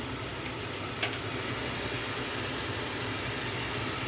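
Chili paste hits hot oil in a pan with fried rohu fish and makes a dense, loud, steady sizzle that holds at the same level throughout. No one speaks.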